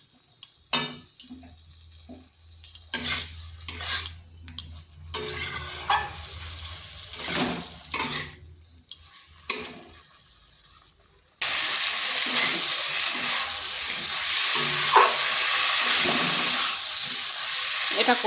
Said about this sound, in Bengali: আলু পটল একসঙ্গে কষিয়ে নিচ্ছি